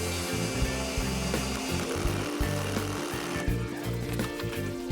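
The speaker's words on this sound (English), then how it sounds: "Just put the boards on top and fasten with screws." A power tool drives screws to fasten wooden step boards for a backdoor step, its motor whirring in loud, choppy bursts that start and stop repeatedly over a continuous workshop hum, close by and with no speech.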